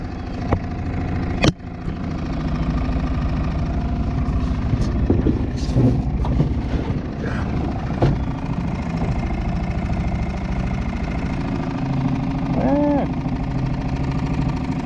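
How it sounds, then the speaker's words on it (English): A small Honda 2-horsepower four-stroke outboard motor idles steadily on a raft, its low, even drone running throughout with a brief knock near the start and faint background sounds over it. "This thing's just idling."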